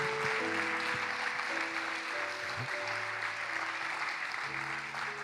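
A church congregation applauding loudly and steadily throughout, a dense wash of clapping with some voices mixed in underneath.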